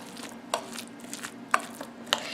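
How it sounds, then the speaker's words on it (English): Chopped chilies and salt are stirred in a bowl, giving a few sharp clinks and scrapes at irregular intervals over a quiet background. "So there, we are just going to mix it all nicely."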